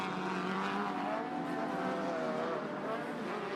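A race car at a Sportsman motor-racing event in Chicago, its engine running rough with motor trouble, droning fairly faint and distant in a continuous uneven whine.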